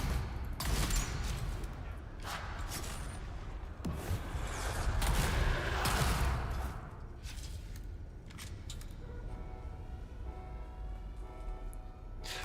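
Shotgun blasts in the video game Dune Awakening, a series of sharp booming bursts in the first half amid dense combat noise, fading to a quieter rumble.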